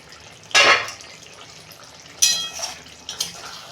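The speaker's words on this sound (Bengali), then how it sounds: "ঢাকনা খুলছি" A metal lid lifted off a pan of simmering potato, pointed gourd and egg curry: a sharp clink, then a second scrape-and-clatter, over a faint steady sizzle with no talk.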